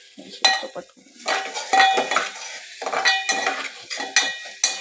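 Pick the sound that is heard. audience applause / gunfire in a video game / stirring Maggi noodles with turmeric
stirring Maggi noodles with turmeric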